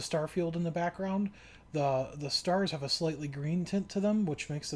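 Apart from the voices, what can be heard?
None of the usual background noises is heard.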